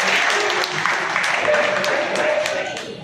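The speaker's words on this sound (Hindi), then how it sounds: "सभी लोग ताली बजा करके उनका स्वागत करें, उनको प्रोत्साहित करें" An audience claps steadily in dense, continuous applause welcoming a garlanding of Raja Suheldev at an annual convention of the All India Rajbhar organisation in West Bengal, with a voice faintly present.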